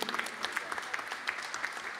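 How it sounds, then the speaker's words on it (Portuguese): Applause at a Brazilian parliamentary inquiry hearing, a brief stretch of dense hand clapping filling the room at moderate level, with faint voices mixed in. "eu gostaria de pedir uma salva de palmas a você, que tem lutado muito."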